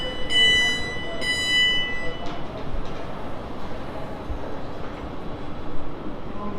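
A train pulls away from Farnborough Main station on the South Western Main Line, heard as a broad, steady rumble with a high tonal whine at first, fairly distant amid ambient platform noise.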